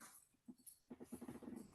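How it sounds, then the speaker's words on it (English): A pet dog growls and whimpers at someone outside the home, a short low rumble followed by a run of rapid, close, fairly quiet growling pulses. "That's my dog. There's someone outside, so naturally have to defend the home."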